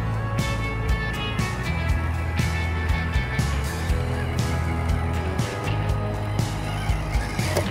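An FMS FCX24 K5 Blazer RC mini crawler drives through water, its small motor whining steadily under splashing and sloshing, close and fairly quiet, with a few bumps along the way.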